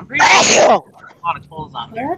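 A single loud, explosive sneeze right up close is followed by someone speaking casually.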